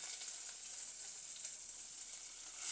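Onion, garlic and green chilli fry in an earthenware clay pot for fish curry, giving a soft, even, hissing sizzle that stays faint and continuous with no other sounds.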